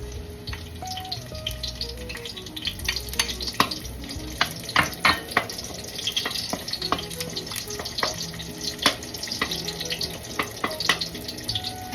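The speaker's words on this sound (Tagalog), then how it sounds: "Maglagay na po tayo ng mantika sa ating kawali. At ilagay na po natin ang ating garlic." Garlic sizzles in hot oil in a kawali for pork sinigang, a steady close frying hiss broken by clinks and scrapes of a stirring utensil, with a brief run of water in the background.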